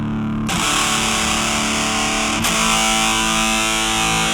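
Distorted electric guitar through a Warm jet phaser pedal in mode 1 with a sweeping jet whoosh, sustained and loud, with a fresh strum partway through that restarts the swirling sweep.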